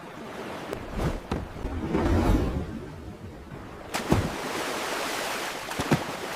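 Ocean waves in a sea scene, surf washing and breaking at moderate distance with a few swells and sharper splashes, mixed with wind noise, faint overall and no talk.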